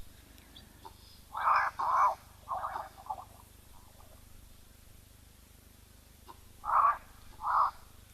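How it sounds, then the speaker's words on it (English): A male South African shelduck at a waterhole gives harsh, honking calls in two short bursts of paired and triple notes, clear against a quiet background with no talk. "It is the South African shelduck male calling here."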